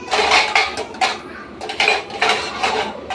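Metal pots and vessels being scrubbed by hand in a home kitchen, close rhythmic bursts of scraping and rubbing with clanks of metal, repeating steadily without talk.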